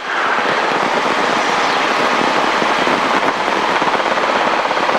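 A helicopter engine and rotor run loudly and steadily during a night practice flight, giving a continuous roar with a fast rhythmic chop underneath and no voices.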